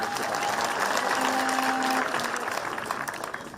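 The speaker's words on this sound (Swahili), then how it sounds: "Makofi mazuri" A crowd at a youth service pass-out ceremony applauds steadily for several seconds, a dense, close, even wash of clapping that stays loud throughout before thinning slightly at the end.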